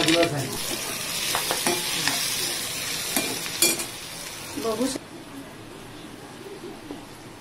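Onion frying and being stirred in a pan for a Khandeshi onion-peanut chutney, with crackling sizzle and scraping strokes of a spoon, a few sharper clatters, then the frying quiets to a softer hiss; birds coo faintly in the background.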